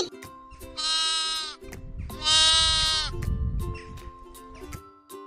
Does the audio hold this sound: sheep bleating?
yes